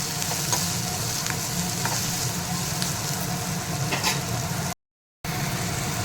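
Onions fry in a pan for a moringa leaf palya, a constant dense sizzle with occasional clicks and scrapes of stirring, broken by a brief silent gap near the end, no voices.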